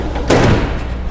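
A drawer on a large Husky metal toolbox slides open with a single quick, loud metallic thud and rattle, heard close up and alone.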